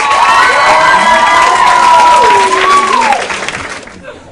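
A high school poetry slam audience bursts into loud, close applause mixed with whooping cheers and high shouts for a poet, the noise holding strong before fading out near the end.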